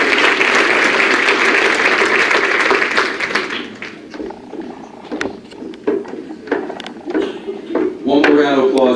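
A crowd at a college athletics senior awards assembly applauds in a dense burst that dies away after a few seconds, leaving scattered claps, small knocks, and a voice speaking at the close.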